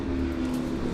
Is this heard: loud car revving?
yes